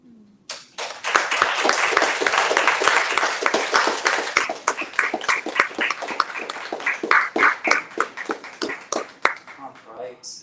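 An audience at a poetry reading applauds for the poets, a sustained burst of many hands clapping that swells quickly, holds steady, then thins into scattered claps before fading out, with a voice briefly heard near the end.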